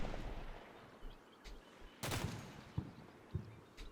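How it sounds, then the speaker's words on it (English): Automatic grenade launcher fire in the Cold War combat game Combat Mission, heard as a series of muffled thumps and bursts spread across the clip, one louder blast in the middle, with no talking. "We have finally, though, got our automatic grenade launcher into position. It's not the most accurate fire."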